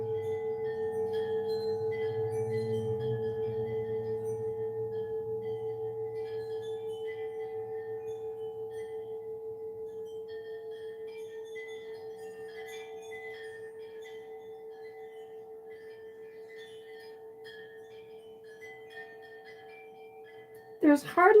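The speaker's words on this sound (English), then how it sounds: "there's hardly a breeze out there, and those wind chimes are just going crazy" Wind chimes hanging outdoors in a barely noticeable breeze ring with sustained, steady metallic tones that fade slowly, over a faint low murmur early on and a brief clatter at the very end.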